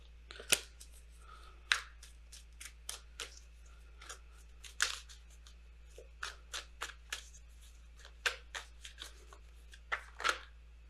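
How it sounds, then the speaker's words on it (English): Wisdom of the Oracle tarot cards are shuffled by hand, giving quiet, crisp riffles and flicks that come in irregular bursts over a faint steady hum. "I'm going to shuffle really good."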